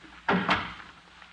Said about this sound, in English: Now shut the door and come in.